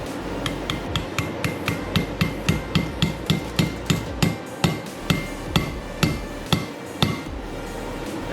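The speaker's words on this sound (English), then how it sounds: "get a hammer" Steady hammer taps on a deep socket driving valve stem seals onto a Honda K20Z3 cylinder head during a rebuild, about twenty sharp metallic knocks in even rhythm, close and clear with no talking.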